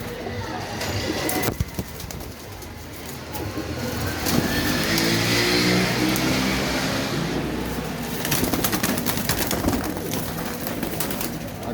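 Flying pigeons for sale cooing nearby amid steady outdoor noise in Faisalabad, with traffic and an engine rumbling in the background.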